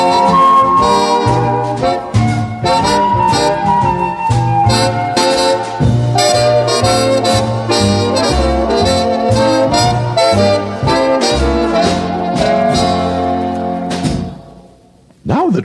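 Flute, an early bass violin and a lyre play together in a full, sustained ensemble passage with steady bass notes beneath bright melodic lines, continuous and loud before cutting off near the end.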